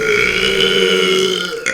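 A long, loud, close burp with a deep rumbling tone holds steady for nearly two seconds before ending abruptly, heard alone with no talking over it.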